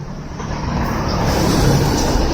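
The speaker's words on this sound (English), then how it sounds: "Okay, trucks." Trucks and cars rolling along a road at night, a steady broadband roadway rumble that swells slightly as vehicles pass close by, with no voices.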